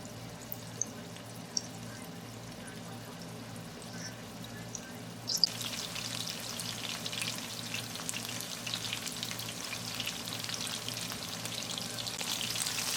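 Marinated prawns go into about a quarter cup of hot oil, quiet at first with a few small clinks, then a steady bright sizzle of frying that continues to the end.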